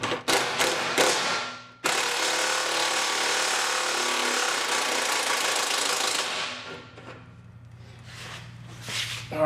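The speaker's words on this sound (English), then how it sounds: "Our electric impact, we'll get this taken off of here." An electric impact wrench with a 1 7/16 socket removes a bolt on a John Deere Z997 commercial ZTrak mower, a few short bursts followed by a long loud rattling hammer run, then quieter clicks nearby.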